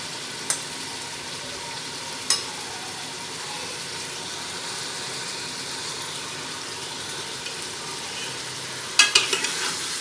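A steady, hissing sizzle of ginger and garlic frying in a pan, with a few sharp clinks and taps of a utensil against the pan.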